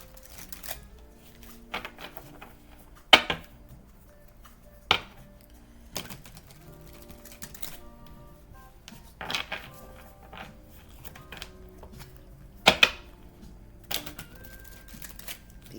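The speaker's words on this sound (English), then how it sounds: "So I'm just gonna shuffle them and pull them" Tarot cards shuffled by hand in a quiet room, giving soft papery riffles broken by a few sharper taps and clacks spread unevenly across the stretch.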